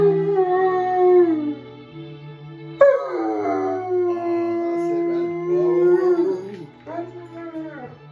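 A dog howls along with music in long, wavering tones that rise and fall over a steady melody, pausing briefly near the middle and then resuming, fairly close and prominent.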